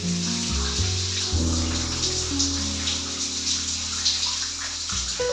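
Water runs steadily from a tap into a bath, a constant splashing rush with shifting tones as the tub fills, heard alone and close.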